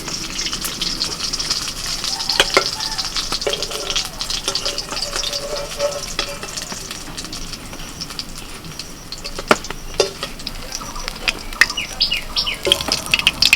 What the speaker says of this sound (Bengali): সব মাছগুলো ভাজা হয়ে গেল